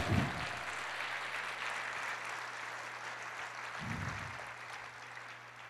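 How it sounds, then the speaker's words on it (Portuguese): Soft, steady applause from a church congregation during a sermon, spread evenly across the hall at moderate distance, with a low hum underneath and a brief voice at the start and again midway. "Aplauda o Senhor"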